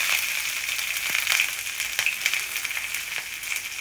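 Onions sizzle and crackle in hot oil in a pan for a long beans fry, a steady close hiss with small popping bursts throughout, no voices.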